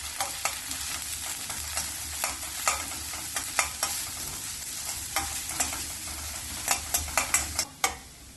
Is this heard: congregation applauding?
no